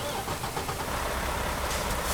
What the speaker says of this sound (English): Let's start the truck up first. Actually, let's start this bad boy up.